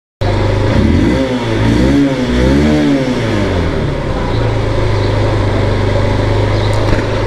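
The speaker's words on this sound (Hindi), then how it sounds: "गाड़ी भी गर्म कर ली तो अभी निकलते हैं।" A motorbike engine warming up before a Sunday ride with a father: a loud, steady close-up engine drone that rises and falls through a few revs early on, then settles into an even idle, with no talking.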